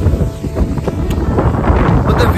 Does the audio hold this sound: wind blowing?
yes